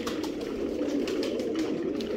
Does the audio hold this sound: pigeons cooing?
yes